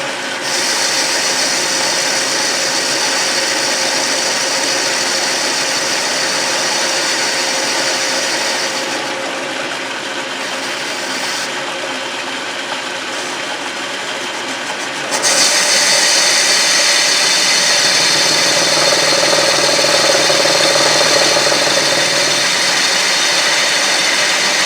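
Metal lathe turning a cast iron chuck with heavy overhang, a steady loud machining drone with broad hiss and tonal hum, dipping quieter midway then returning stronger near the end, no talk.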